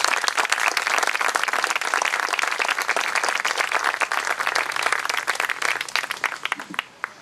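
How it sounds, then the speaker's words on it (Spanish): An audience at a book presentation in Villa de Merlo breaks into sustained applause, many hands clapping densely before tapering off near the end. "El aplauso entonces."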